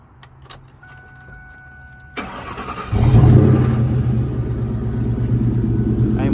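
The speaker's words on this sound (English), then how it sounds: "I'm gonna hit you with a cold start. You probably hear that knocking too once it crank up," Cold start of a 2003 Ford Mustang with a knocking engine and no exhaust fitted: faint clicks and a brief starter crank, then the engine catches into a loud, rough, steady idle rumble close by.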